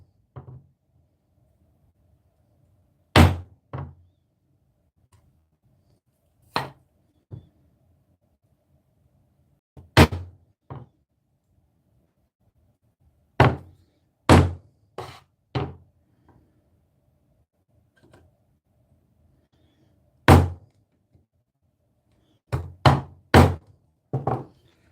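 A wooden mallet strikes a chisel cutting along a knife wall in wood, giving sharp isolated knocks at irregular intervals, sometimes in quick pairs or triples, loud and close in a quiet room.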